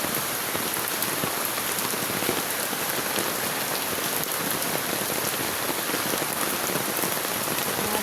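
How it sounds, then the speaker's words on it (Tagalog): Heavy rain pours down steadily and loudly on surfaces in a residential neighborhood in the early morning, a dense, unbroken hiss of drops with no voices. "Pero sobrang lakas ng ulan."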